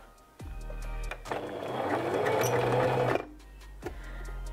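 A sewing machine runs in a steady burst of stitching on a garment for a child's bralette, loud and close, starting and stopping with brief quieter handling before and after.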